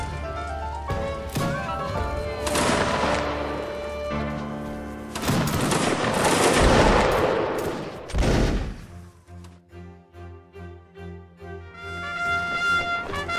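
Musket volleys crack out in a Napoleonic Wars game battle at Eylau, several loud overlapping bursts of massed fire followed by scattered shots and rolling echoes, with music playing underneath.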